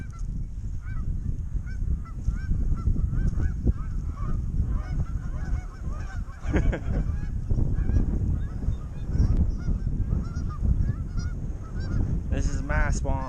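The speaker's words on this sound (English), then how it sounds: "Look at the geese." A flock of geese honks repeatedly at a farm pond, the calls overlapping over steady outdoor background noise, with a few louder, closer honks near the end.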